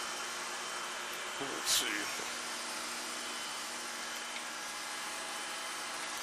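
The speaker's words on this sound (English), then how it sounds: "we're purposely going to be grinding so that our wheel is crossing the center line." A surface grinder's wheel doing outside-diameter grinding on a workpiece held in a fixture, giving a steady broadband hiss and whine throughout, with a brief spoken phrase partway through.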